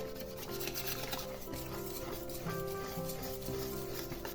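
Apple fritter batter of flour and egg being beaten by hand in a bowl makes a steady, brisk scraping and slapping rhythm. It is close and continuous and nobody speaks.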